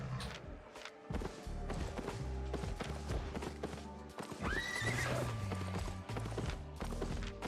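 A winged horse mount in the Albion Online video game neighs loudly while its hooves clip-clop in a steady rhythm, layered with game effects and background music.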